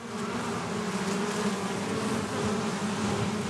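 A dense, continuous buzzing of many bees fills the air, steady and close, with nothing else heard.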